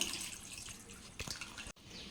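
Water running and splashing as a cooking pot (uruli) is rinsed at a sink during gulab jamun preparation, with tap flow and drips, a brief pause near the end, close and fairly quiet.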